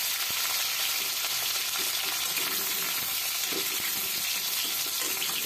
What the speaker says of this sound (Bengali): এইবার আমি কিন্তু আলুগুলিকে লবণ হলুদ মেখে ভেজে নিচ্ছি